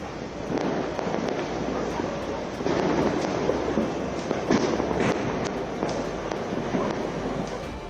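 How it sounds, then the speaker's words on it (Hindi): Dense crackling bursts and pops of Diwali fireworks going off continuously across Delhi, a steady roar of many distant explosions with sharper cracks layered on top. "दिल्ली के हर कोने में आतिशबाजी हुई"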